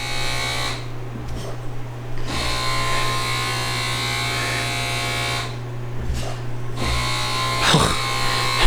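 An ageing, intermittently jamming vacuum pump on a Smart electric car hums steadily throughout with a buzzing whine, fairly loud and constant, dipping briefly twice before resuming.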